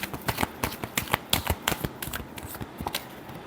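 Tarot cards are shuffled close up in a brief burst of rapid, crisp taps and riffles, steady and alone with no voice.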